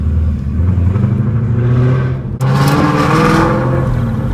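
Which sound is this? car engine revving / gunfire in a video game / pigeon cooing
car engine revving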